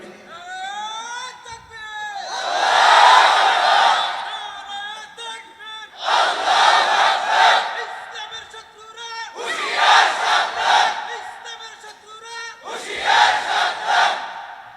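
A crowd at a religious sermon shouts the takbir, Allahu Akbar, in four loud call-and-response waves. A lone voice leads each time and many voices roar back, with short pauses between rounds.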